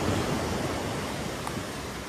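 Ocean waves wash onto Pasir Ganting beach, a coral-stone shore at Indrapuro in Pesisir Selatan, forming a broad, steady roar of surf close to the microphone with a touch of wind and no talking.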